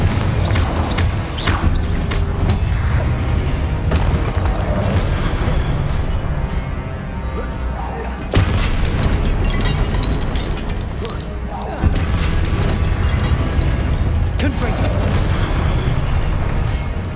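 Confringo fire-blast spell explosions go off in Hogwarts Legacy on PS5 as heavy, booming blasts that follow each other almost continuously over dense game sound, with stronger impacts every few seconds.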